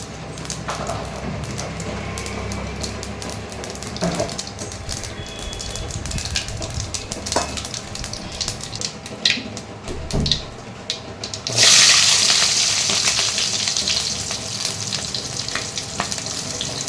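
Mustard seeds, cumin and fennel sizzle and crackle in hot oil in a pan. The frying is steady and close, with scattered pops and stirring clatter, and it grows louder and hissier near the end.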